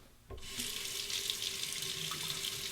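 A razor being rinsed under a running sink tap: after a brief quiet start the faucet switches on and a steady, close splashing stream of water runs continuously, with no voices.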